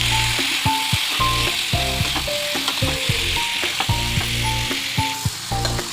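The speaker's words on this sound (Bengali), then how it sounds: "আলুটা দিয়ে দিলাম, এরপরে আমি ভালো করে আবার কষিয়ে নেব।" Potatoes and soybeans sauté in a hot pan with a steady sizzle, while a metal spatula scrapes and clinks against the pan in quick, irregular strokes close by.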